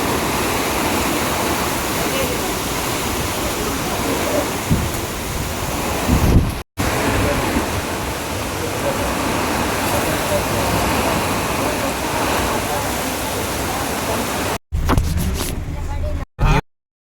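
Heavy rain pours down during a ride on a Yamaha RX135 motorcycle, a dense, steady roar of rain and wind noise that drops out briefly a few times.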